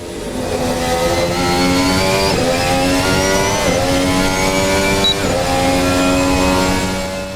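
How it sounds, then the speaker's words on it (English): A car engine revving hard in repeated surges, each climbing in pitch before dropping back, heard loud and close through a gaming headset, with a deep rumbling drone underneath. "My head is just being filled with these beautiful, beautiful engine notes."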